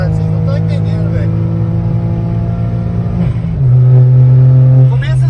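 A tuned stage 4 VW up! engine revs hard, its steady droning note dipping briefly before settling into a louder, fuller roar as the car pulls, heard close and continuous.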